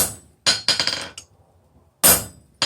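A hammer strikes a punch driven through hot steel on an anvil, giving sharp ringing metallic blows in quick bursts, two clusters of hits separated by a short pause.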